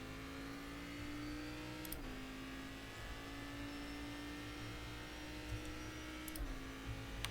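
Cadillac CTS-VR race car in the iRacing simulator at Laguna Seca, a steady high engine drone with two quick shifts that briefly drop the pitch, no voices.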